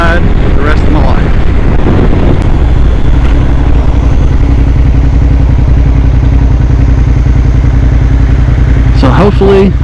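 A Suzuki SV650 motorcycle being ridden, its engine droning loud and steady beneath heavy wind rush buffeting the microphone, with a brief clatter near the end.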